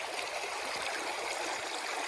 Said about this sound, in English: he'll understand what the river's like when it's very low like this